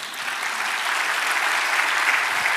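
A church congregation claps together in sustained, loud applause during a Spanish-language service, a dense steady wash of hands with no talk over it.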